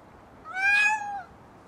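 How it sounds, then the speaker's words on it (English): A cat lets out a single clear, drawn-out meow close to the microphone, rising and then falling in pitch over about a second against a quiet background. "He's a very vocal cat."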